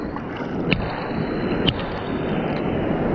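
Choppy open water sloshes and rushes past a small boat in a steady, broadband wash, with wind buffeting the microphone and a couple of brief splashes.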